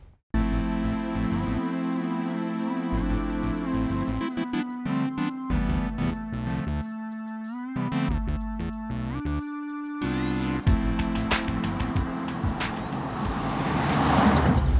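A custom-painted Chevy Impala lowrider with drag-car-style handling is driven, giving a loud, steady engine drone that holds throughout and swells toward the end, with no talking over it.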